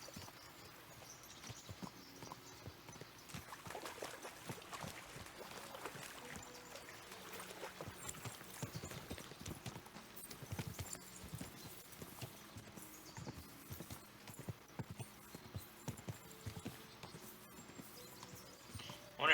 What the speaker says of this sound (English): we'll give the horses a gallop again.